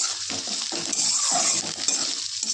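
Chopped onion is stirred with a spatula in a frying pan, giving a steady sizzle with soft scraping strokes and occasional clinks from the pan, close and continuous with no talking.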